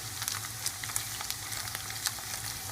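Eggs frying in a pan over high heat give a steady, soft sizzle with faint crackles and pops throughout, close and fairly quiet, with no talking.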